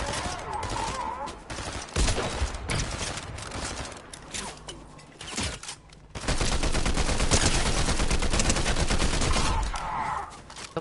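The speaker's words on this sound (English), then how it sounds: "Someone was shooting at me then." Repeated bursts of automatic gunfire in Fortnite rattle loudly, pausing briefly before a long, dense stretch of shooting, with a player talking over the action.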